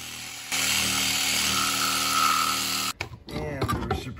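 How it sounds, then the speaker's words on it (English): A reciprocating saw cuts through the nails holding a door threshold to the jamb on a pre-hung door, giving a loud, steady buzzing whine for a few seconds before it stops and a person talks. "the reciprocating saw. You can get that thing out nice and clean."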